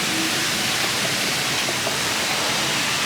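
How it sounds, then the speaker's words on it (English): Steady, loud rush of falling water by an adults-only pool and hot tubs on a cruise ship's deck, a constant broadband hiss with no breaks and no voices. "Super nice and peaceful with the water"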